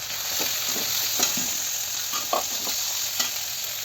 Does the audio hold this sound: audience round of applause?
no